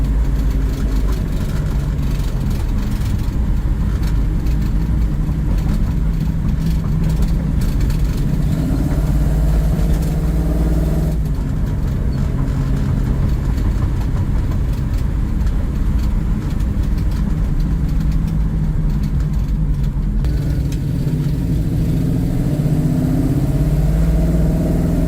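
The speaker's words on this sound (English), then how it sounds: "I think it might be the mufflers or exhaust, something kind of clacking around, so you're gonna hear that" A 1968 Pontiac Firebird's engine runs steadily while driving, a loud, continuous low drone with shifting revs and a loose clacking rattle from the mufflers or exhaust, plus road rumble throughout.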